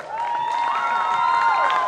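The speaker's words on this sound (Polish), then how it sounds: "Wielkie brawa do niego!" Crowd applause and cheering for a drummer at an outdoor harvest festival concert, with music tones ringing through the clapping and shouts.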